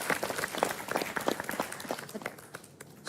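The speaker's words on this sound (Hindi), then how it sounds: "सबके लिए दिल से तालियां भाई, सबके लिए।" Continuous applause from a studio audience on a sports competition reality show, steady and moderately loud clapping with some crowd noise throughout.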